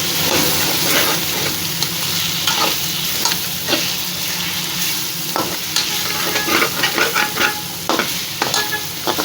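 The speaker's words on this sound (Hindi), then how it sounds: "एक चम्मच भर के लहसुन अदरक का पेस्ट, इसको भी भून लेते हैं।" Spoonful of garlic-ginger paste frying and being stirred in a pan for dhaba-style dal, a steady loud sizzle with scraping stir strokes throughout, no voices.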